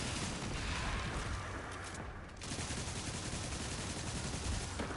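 Rapid automatic weapon fire in the shooter Destiny 2, a dense continuous stream of shots that briefly drops out for a moment, then resumes steadily at loud, even level.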